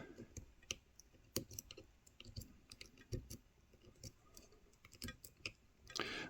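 Quiet, close metallic clicks from the pins inside a tubular 'windproof' motorcycle disc brake lock being picked, coming as irregular small ticks with light handling noise between them.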